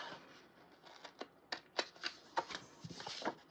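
Paper being cut with scissors for a Happy Planner dashboard layout, a quiet series of short snips and rustles at close range, with no talking.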